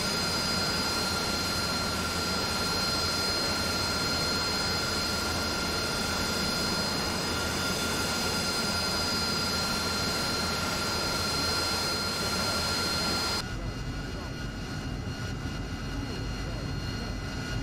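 Harrier jet engine in a combat flight simulator game, a steady whining roar with a high tonal whine over a broad rumble, continuous and loud until it abruptly thins near the end.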